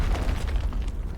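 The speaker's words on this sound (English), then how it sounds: "I saw an explosion." An explosion in a competitive online multiplayer match booms loudly and fills the low end with a rumbling, crackling burst that lasts over a second.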